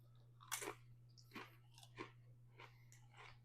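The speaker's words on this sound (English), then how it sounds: "I'm going to take a tortilla chip here, and I'm just going to dig in" Close crunching bites of a tortilla chip loaded with homemade jalapeño salsa, several distinct crisp chews spaced over a few seconds against a low steady hum, with no talking.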